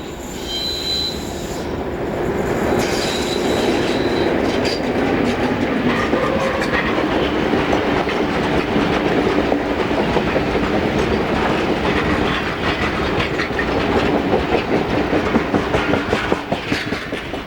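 A pair of Class 31 diesel locomotives haul a spoil train past, loud and close, with a sustained rumble, shrill wheel squeal and rapid clickety-clack of wagons. No one speaks.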